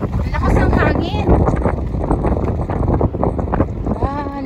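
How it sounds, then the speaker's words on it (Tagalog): Strong wind during the first snowfall in Karlstad, Sweden, in winter: a constant loud roar and buffeting against the microphone, with people talking and calling over it. "Lakas ng hangin."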